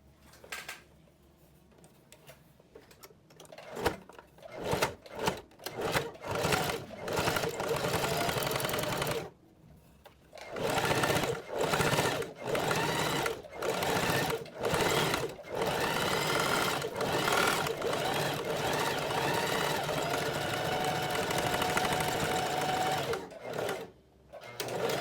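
A sewing machine runs heavy topstitching on a denim blouse in a series of loud, close bursts of rapid mechanical clatter separated by short pauses, followed by one long unbroken run.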